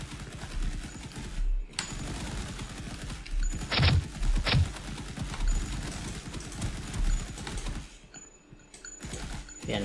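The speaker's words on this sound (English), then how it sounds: "now they are shooting." Rapid gunfire from AI allies in an Unreal Engine 5 combat game, dense rattling bursts running almost continuously with a couple of louder shots, fairly loud and alone, pausing briefly near the end.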